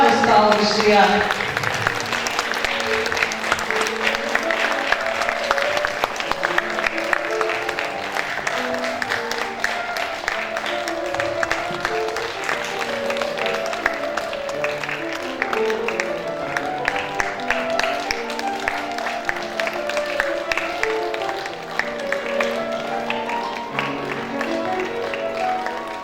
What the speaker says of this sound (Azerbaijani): biz də onları ayaq üstə alqışlayaq